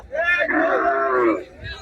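A single long, loud cow moo close by at the Diabari cattle market in Uttara, Dhaka, during the Eid sacrifice season, with faint market crowd noise in the background.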